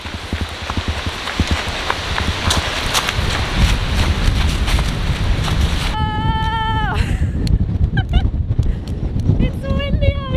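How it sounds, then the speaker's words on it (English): Strong wind roars across a cold, stormy beach, a loud broadband rush that buffets steadily throughout, with a voice speaking over it near the end. "It's windy out here."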